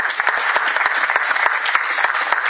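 A church congregation applauds loudly in acclaim of the name of Jesus, with dense, rapid clapping that carries on steadily throughout, with no voices standing out above it.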